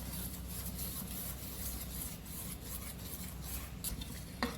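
A spoon stirs buttermilk with a large spoonful of gram flour in a small bowl, a steady soft scraping and swishing with a faint clink near the end.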